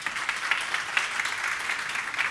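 Energetic audience applause at a digital HR conference on a rainy morning, a fairly soft, even crowd clapping with slight pulses, heard alone without talk.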